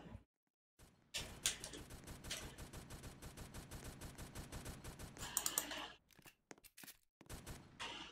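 Rapid bursts of gunfire from a gun in the Roblox Brookhaven game, a dense run of sharp cracks lasting several seconds after a short silence, then broken into a few scattered shots toward the end.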